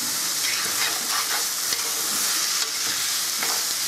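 Rice fries in a pan for a chicken risotto, giving a loud, steady sizzling crackle with occasional scrapes of stirring and no one talking.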